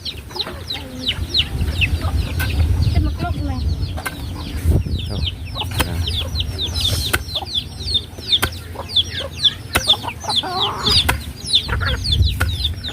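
Chickens cluck and chatter continuously, several birds close by with overlapping short calls over a low outdoor rumble.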